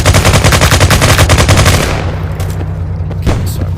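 Rapid, loud gunfire from a pistol and rifles in the VR shooter game Firezone on a Meta Quest 2. A fast burst of shots gives way to a fading boom and scattered trailing reports.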